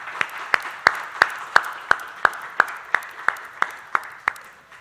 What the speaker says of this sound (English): let's get a round of applause for the newly identified Season 5 U.S.